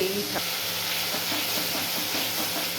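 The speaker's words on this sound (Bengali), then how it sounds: "এই দিয়ে দেখো কষাচ্ছি, কষিয়ে কষিয়ে তারপরে মাছগুলো ছেড়ে দেবো।" A spice paste of ginger, garlic, tomato, green chili, Kashmiri red chili and turmeric fries in a pan with steady loud sizzling and hissing, with soft stirring taps through it.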